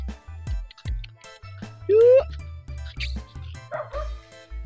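Four pet dogs bark and yip in short, close bursts, with a whimpering whine in between and a low voice speaking under the barking.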